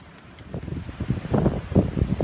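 Strong, gusting wind buffets a hammock camp in stormy weather, rising in loud rumbling surges against the microphone over a couple of seconds.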